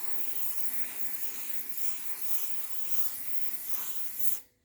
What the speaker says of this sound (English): Contact cleaner or brake cleaner,